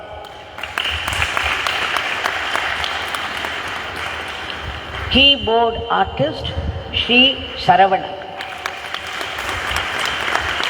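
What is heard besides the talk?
audience applause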